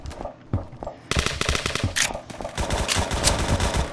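Gunfire in the Roblox shooter Phantom Forces: a few isolated shots, then rapid bursts of automatic fire from about one second on, loud and close, continuing in uneven volleys to the end.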